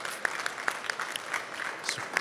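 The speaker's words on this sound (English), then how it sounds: "How about a nice round of applause for all of our 6 finalists?" An audience at a business innovation award event applauds the six finalists: a moderate room of scattered, distinct claps, fairly close, lasting a couple of seconds without speech.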